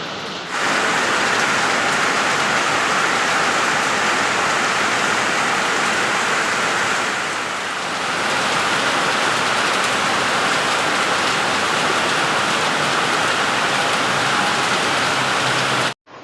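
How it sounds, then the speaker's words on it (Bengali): Heavy rain pours outside a balcony in a dense, continuous hiss that stays loud and even throughout, with a brief slight dip midway and no voices. "এই দেখো কি বৃষ্টি হচ্ছে"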